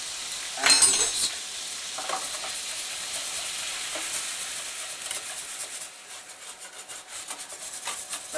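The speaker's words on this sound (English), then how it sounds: "What we do is we just sprinkle it in and we whisk." A whisk scrapes steadily through flour sprinkled into roast lamb gravy in a pan, giving a close, continuous rubbing and stirring sound over a soft sizzle, with a brief clatter near the start.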